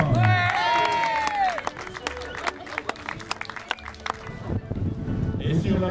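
Applause from a crowd at a raid race podium ceremony, scattered clapping that rises and falls, with a voice heard over the top.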